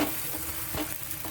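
An oats chila turned over in a hot oiled pan, a close steady sizzle of frying with a faint scrape from the flip, brief and continuous without any talking.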